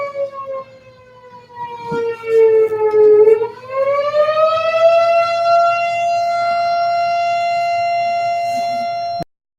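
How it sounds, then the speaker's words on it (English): A civil defense siren wails outside a city council meeting in Lemoore, its loud tone sliding down, then rising and holding a long steady pitch before cutting off abruptly. "I take a moment for the siren,"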